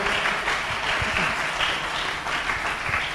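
Church congregation applauding and cheering together at a worship service, a steady dense wash of clapping that holds throughout at close range, with no talk over it.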